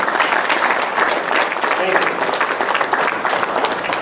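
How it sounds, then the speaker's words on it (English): Audience applause after a talk on ethics and social media, a dense, continuous clapping from a sizeable crowd with some voices mixed in, steady and loud throughout. "another big round of applause"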